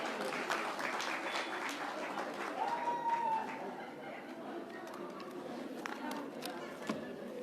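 A seated audience at an International Mother Language Day literary gathering claps warmly to welcome a woman guest. The applause is moderate and steady, with voices murmuring through it.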